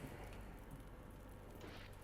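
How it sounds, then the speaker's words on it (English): Rain falls in the game S.T.A.L.K.E.R. Shadow of Chernobyl, a faint, steady patter on surfaces heard from shelter beside a fire, with no voices. "And here we can take shelter from the rain."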